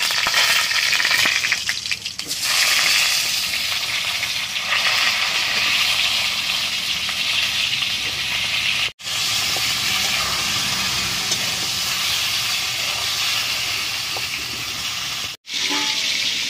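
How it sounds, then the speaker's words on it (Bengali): Pointed gourd (potol) pieces frying in hot oil, a steady close sizzling hiss that continues throughout, with occasional stirring and two brief breaks in the sound. "পটলগুলোকে আমি লাল লাল করে ভেজে নেব।"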